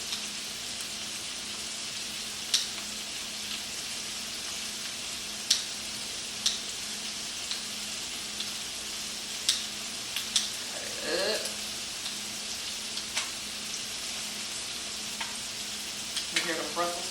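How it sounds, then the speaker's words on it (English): Steady, close sizzling of Brussels sprouts frying in bacon grease, with scattered crackles and pops and a brief stir near the middle. "You hear the Brussels sprouts sizzling in that bacon grease."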